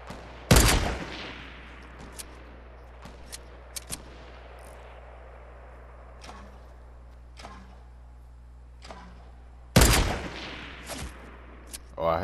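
Two sharp, loud sniper rifle shots ring out in a video game, one early and one near the end, with faint scattered game sounds and softer background noise in between.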